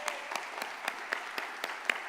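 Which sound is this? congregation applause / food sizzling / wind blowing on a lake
congregation applause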